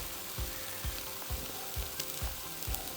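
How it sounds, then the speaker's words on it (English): Dry white wine simmers and sizzles quietly in a pan, a soft, steady bubbling hiss punctuated by regular low thumps roughly every half second. "we're gonna let this simmer till the wine is cooked down almost completely"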